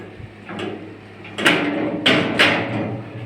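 Homemade safe's sliding bolt mechanism, a few scraping, clunking metal slides with bursts near 1.5, 2.1 and 2.4 seconds, close and moderately loud with no talk.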